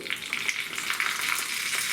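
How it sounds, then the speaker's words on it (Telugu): Mustard seeds, cumin, green and dried red chilies crackling in about two tablespoons of hot oil in a small pot on a stove for tempering, a steady close, loud sizzle with no talk. "పచ్చి పులుసులోకి పోపు పెట్టడానికి ఒక చిన్న పాత్రను తీసుకొని ఇలా స్టవ్ మీద పెట్టుకొని ఇందులో ఒక 2 టేబుల్ స్పూన్ల ఆయిల్ వేసుకోవాలి"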